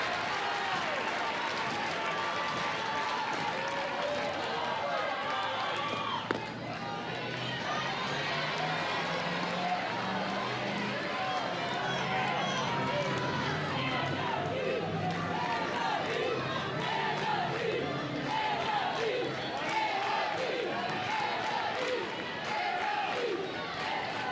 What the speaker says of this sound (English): The crowd is getting loud here.